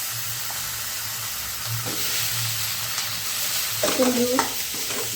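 Potatoes frying in a pan with broad steady sizzle and some stirring, a short bubbling burst near the end, one brief spoken word.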